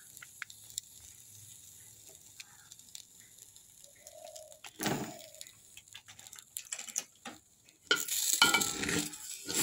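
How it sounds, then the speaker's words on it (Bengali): Gobindobhog (kamini atop) rice frying with turmeric in a pan, stirred with intermittent scraping clicks and soft sizzle, quiet at first, then louder bursts of stirring near the end. "তো আমি এখন হলুদ দিয়ে একটু নাড়বো।"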